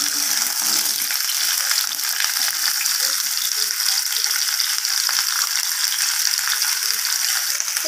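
Cut vegetables and banana stir-fried in a pan for a vegetarian curry, giving a steady, close, dense crackle and sizzle that runs without a break and without any talk.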